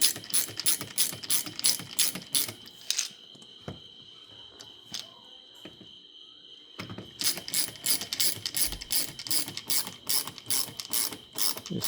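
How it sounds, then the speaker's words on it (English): Rapid ratchet clicking from a hand tool screwing down a Mini Cooper R58 taillight, close by, in steady bursts at the start and end with a quieter pause between. "Just screw it down."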